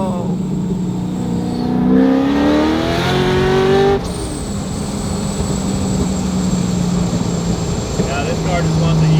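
A loud C6 Corvette engine revs hard on downshifts, with rising and falling blips of pitch and a sustained roar heard from inside the car, while people talk over it.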